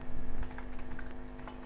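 Rapid, uneven tapping of a computer keyboard while code is typed, close and clear, with a steady electrical hum underneath and no talking.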